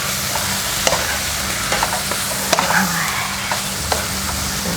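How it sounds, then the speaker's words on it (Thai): Drunken-style Mama instant noodles stir-fried in a pan with seasoning powder and oyster sauce, giving a steady bright sizzle with scattered spatula scrapes and clicks, close and continuous. "ผัดให้เข้ากัน"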